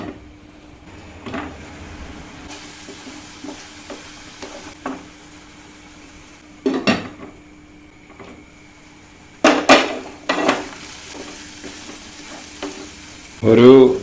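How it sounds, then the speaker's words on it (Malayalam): Mushroom gravy base sautéing and browning in a pan, with low sizzle throughout and a few sharp scrapes and clinks from stirring, a louder knock near the end. "ഇടക്കൊക്കെ ഇത് ഒന്ന് പൊക്കിയിട്ട് ഇളക്കി കൊടുക്കണം"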